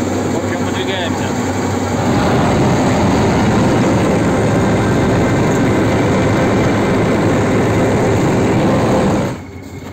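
An MT-LB tracked vehicle's heavy engine roars steadily and loudly as it drives off across snow, a dense continuous rumble that cuts out abruptly near the end.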